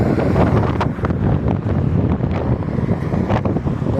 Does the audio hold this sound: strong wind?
yes